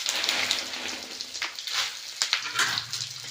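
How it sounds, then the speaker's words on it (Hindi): Chilies fry in hot oil, sizzling and crackling steadily up close, with scattered sharper pops over a constant hiss. "तेल में तलूँ और तेल गरम हो गए है"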